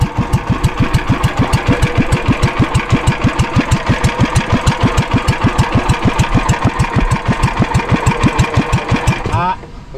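A powerful boat engine runs hard in rapid, even chugging pulses that stay loud and close for about nine seconds, then cuts off abruptly near the end.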